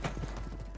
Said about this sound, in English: Oh, I hear footsteps above us.